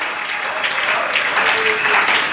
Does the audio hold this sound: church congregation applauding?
yes